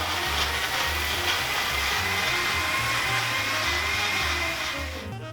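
Blender whirs continuously, close and steady, grinding shallots, garlic and oil into an Indonesian spice paste, tapering off at the end.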